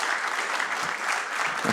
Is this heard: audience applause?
yes